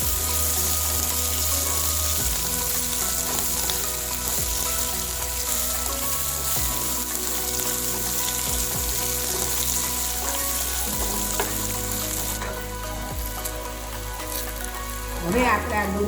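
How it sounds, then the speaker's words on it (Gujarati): Garlic chips fry in hot oil for a homemade garlic and onion chutney, giving a steady, close, crackling sizzle throughout, with a few light stirring clinks toward the end. "લસણની ચિપ્સ નાખી પછી આપણે એને પાછું શેકવાનું છે."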